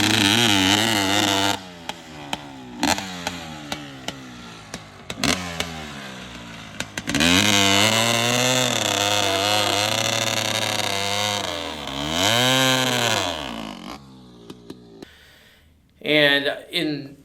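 A 1985 Honda CR500 dirt bike doing a burnout to strip its knobby tire, its engine revving hard in long sustained roars with brief drops between, loud and close, with short bursts at the end.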